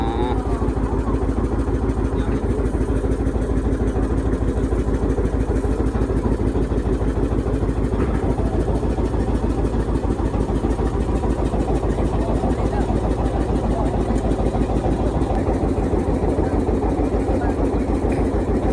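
A motorcycle engine idles steadily and close by throughout, a continuous low rhythmic putter on the evening ride near a Malay fishing village of stilt houses by the sea.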